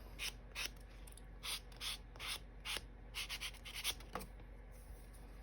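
Sanding strips of paper cardstock for handmade cards on a craft mat, heard as a series of short, close rasping scrubs in irregular bursts with brief pauses between strokes.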